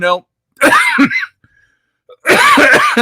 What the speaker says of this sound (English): pardon me again, cough.